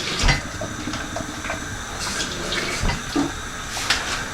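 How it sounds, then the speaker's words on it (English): Water is poured into a blender with chopped ingredients for a vegan kimchi paste, a steady close splashing trickle with a few clinks, running throughout without speech. "And then we add a bit of water."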